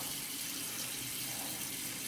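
Steady running water pours from a tap into a slow-draining bathroom sink, a continuous close hiss with no voices.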